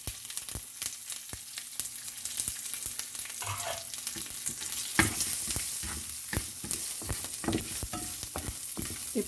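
Green chilies and curry leaves fry in hot oil for a cluster bean and coconut curry, a continuous close crackling sizzle broken by stirring scrapes, with no talking.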